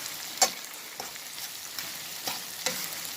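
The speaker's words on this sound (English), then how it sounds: "And then we can stir, mix it up." Corned beef frying in a pan and stirred, a soft continuous sizzle broken by several crisp scrapes and clicks of the spoon against the pan.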